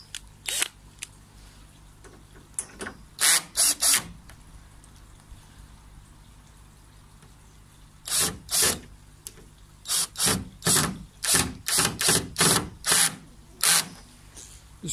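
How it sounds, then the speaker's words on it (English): A power drill drives 1-inch wood screws into the wooden sides of a koi pond. Short whirring bursts come in two clusters, with a few at first and then a rapid run of many, close and loud, with quiet gaps between. "So we'll just screw these screws in."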